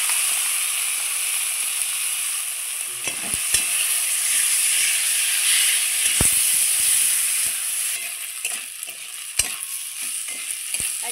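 Gobindobhog rice frying in a wok with dry chilli and cumin gives a steady, close hiss of sizzling, broken by sharp scrapes and clicks of stirring. No voices are heard.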